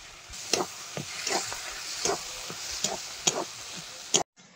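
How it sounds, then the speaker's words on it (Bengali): Prawns, fried earlier, go into a hot pan with salt and turmeric, giving a steady soft sizzle broken by several sharp crackling bursts and stirring scrapes, close up, with no voices. "এবার ভেজে রাখা চিংড়ি মাছগুলো দিয়ে দেবো, লবণ হলুদ।"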